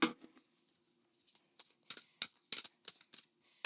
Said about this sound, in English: let's do a quick overhand. Let's see how it shuffles.